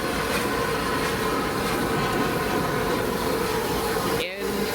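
Keith, a steam locomotive on the Spa Valley Railway, rumbles steadily as he is shunted forwards into the sidings, a constant broadband chuffing drone with a brief dip near the end.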